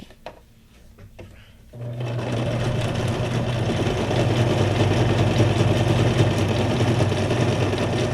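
After a few soft handling knocks, a sewing machine starts up and runs steadily, stitching around the edges of a fabric junk journal tag layered with book pages, a close continuous mechanical whirr and rapid needle chatter.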